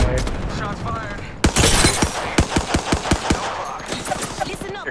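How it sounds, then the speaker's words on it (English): Gunfire in the Apex Legends video game: a rapid burst of sharp, loud automatic shots, followed by a run of evenly spaced single cracks, with game sounds and faint voices around them. "Shots fired."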